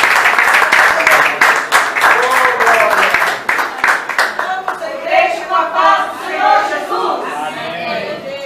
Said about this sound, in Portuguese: respondeu com palmas para Jesus.